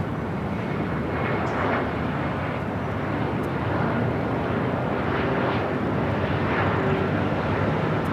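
A SkyWest jet arriving from Aspen at Los Angeles airport gives a steady, loud broadband engine roar that holds throughout without a break, with faint radio chatter in the background.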